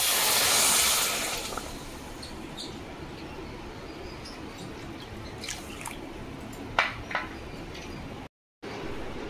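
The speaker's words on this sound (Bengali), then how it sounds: "যতটা চিনি দিয়েছি তার থেকে একটু বেশি পরিমাণে জল দেবো।" Water poured into a bowl of sugar to make sugar syrup for kalojam sweets, a brief splashing pour at the start that fades into a quiet room, followed by a few faint taps and drips.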